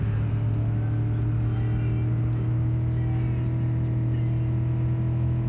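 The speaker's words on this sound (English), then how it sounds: "I really like how this car sounds." A steady, droning car engine in the video game Cyberpunk 2077 hums at a constant pitch, a continuous low rumble with no pauses.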